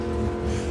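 A V8 Fiat drag car with a small block Chevy engine roars loudly at a drag strip, a dense sustained engine blare filling the whole moment.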